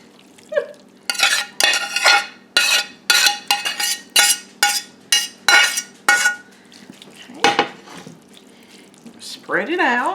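A thick no-noodle lasagna casserole of ground beef and zucchini is spooned into a baking pan in about a dozen evenly spaced, loud scraping clunks. Brief talk comes before and after.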